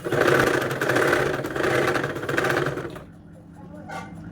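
Electric sewing machine stitching a neatly folded hem on a child's frock, running in steady whirring bursts for about three seconds before stopping, with someone talking over it and softly after.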